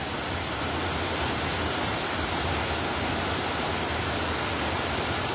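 Water from the Ağbulaq spring in Minkənd village, Laçın district, pours in a continuous, even rush, close and moderately loud, with no voices.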